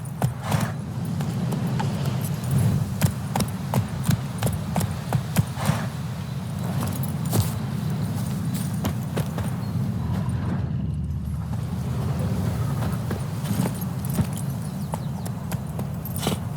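A horse gallops in The Witcher 3, its hooves beating a steady, quick clip-clop rhythm over a continuous low rumble of movement throughout, with no one talking.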